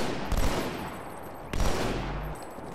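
Halo 2 video game gunfire in two bursts, each starting with a sharp loud report and ringing on briefly, with steady game ambience underneath and no talking.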